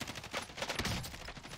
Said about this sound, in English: Look at the hip fire with the kilo,